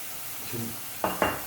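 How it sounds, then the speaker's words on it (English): Onions frying in a pan for French onion soup, a soft steady sizzle with a couple of brief louder stirring scrapes near the end, close and clear with no talking. "you want to take it down and get a deep colour into the onion as well"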